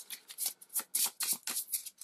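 A deck of game cards for an Elder Scrolls board game gets shuffled by hand, producing a quick run of crisp riffling bursts close to the mic, with no talking.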